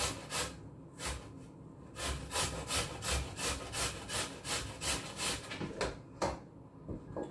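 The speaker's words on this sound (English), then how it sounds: "you have to grate the kalabasa" Kalabasa squash is grated by hand, a rapid series of rough rasping strokes, roughly a dozen rhythmic scrapes close up with short pauses between bursts, and no speech.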